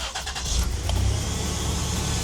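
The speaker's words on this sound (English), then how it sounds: "let's see if it actually cranks on now" A 1992 Toyota 4Runner engine catches quickly and settles into a loud, steady idle, the low rumble filling the clip without any voices.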